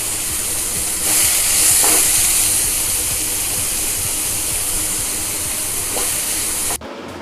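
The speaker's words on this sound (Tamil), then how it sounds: "ஒரு 5 நிமிஷம் வெங்காயம் நல்லா வணங்கட்டும்" A constant sizzling hiss of onions frying in a pan, steady throughout and ending with an abrupt cut.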